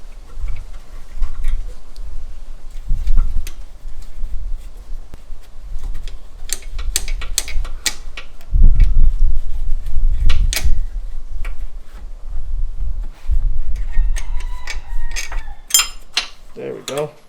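Ratchet clicking in quick bursts while unbolting a car engine bracket during a pulley install, close and crisp, with metallic clinks and tool handling between bursts.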